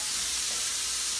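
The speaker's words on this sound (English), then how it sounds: "cooking up my sausage." Sausage sizzling and frying in a pan while cooking, a steady close hiss with no one talking.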